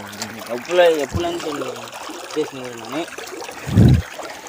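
Water is splashed onto a cow being bathed in a village for Mattu Pongal, a short gush of pouring and splashing near the end, with people talking loudly over most of it.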